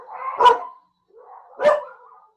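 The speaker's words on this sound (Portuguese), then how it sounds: "pelo barulho dos cachorros, que é difícil segurar eles quando eles começam a latir" Two sharp, close dog barks ring out about a second apart, with quiet between them.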